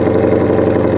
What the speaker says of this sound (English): I'm gonna give you a quick cold start on that